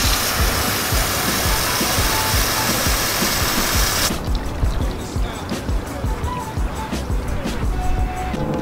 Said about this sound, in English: So I'm gonna spray some water on here.